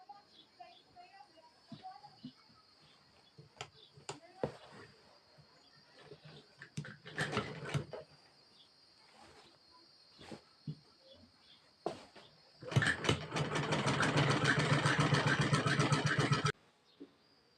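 Sewing machine stitching a waistband onto a Patiala salwar, heard as a loud, steady mechanical whir in one sustained burst lasting a few seconds, after quieter scattered clicks and handling noises.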